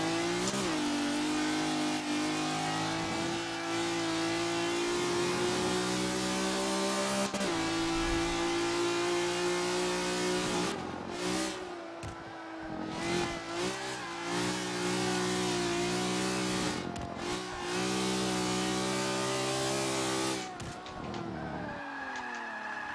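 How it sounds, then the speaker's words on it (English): A racing car engine revs hard and continuously in a video game, pitch climbing and dropping through gear changes at Silverstone, with occasional tire squeal; no talking. "This car sounds awesome."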